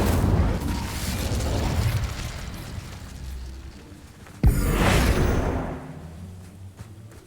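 Incendio fire spell cast in the video game Hogwarts Legacy, a sudden sharp burst followed by a roaring whoosh of flame that swells and fades over a few seconds after a rumbling stretch.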